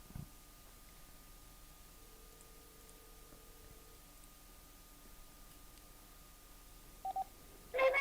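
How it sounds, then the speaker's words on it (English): Short telephone dialing tones beep faintly over a quiet line hiss as a call is placed, with a few brief keypad blips clustered near the end. "I'm going to take a quick break and get Cory on the phone"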